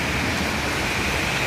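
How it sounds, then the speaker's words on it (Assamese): Steady heavy rain drumming on a large umbrella, a continuous even hiss with no voices. "কি ধুনীয়া বৰষুণ"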